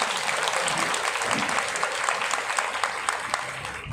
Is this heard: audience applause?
yes